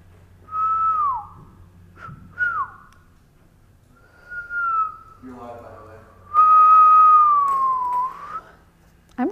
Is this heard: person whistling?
yes